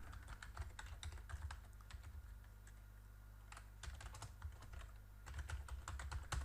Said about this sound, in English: and you type their email address